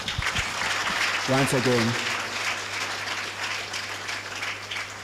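Audience applause at a navy memorial day ceremony, a sustained wash of clapping heard from a slight distance, with a voice speaking briefly over it near the start.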